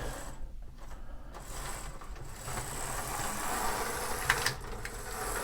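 An older Athearn blue box model locomotive motor runs with a steady, fairly quiet mechanical whir and faint gear chatter, continuous throughout, with a couple of small clicks near the end.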